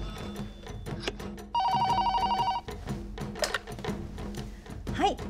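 An office telephone rings once for about a second after a call is placed, a bright electronic trill heard close over background room noise, with people talking around it.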